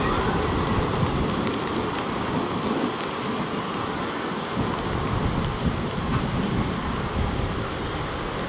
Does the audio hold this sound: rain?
yes